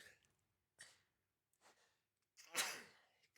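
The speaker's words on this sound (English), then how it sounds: "Oh my God, I have to sneeze." One quiet sneeze bursts out after a few soft, short breaths and sniffs, close to the mic and fairly faint.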